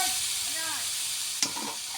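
Hilsa fish pieces with ridge gourd and jackfruit seeds land in a hot frying pan, giving a steady close sizzle with stirring scrapes and a brief sharp clatter midway.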